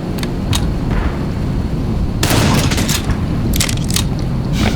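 Gunfire in the first-person shooter Black Mesa, sharp bursts and booms cutting through a loud, constant background of game noise, with no talk.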